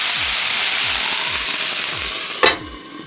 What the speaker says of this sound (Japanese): で、蒸し焼きにします